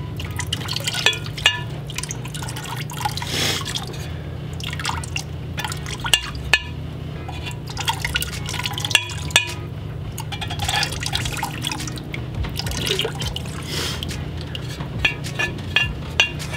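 Glaze is poured around the rim of a pottery pot as it is turned, giving close trickling and irregular drips with occasional light clinks of ceramic, no speech.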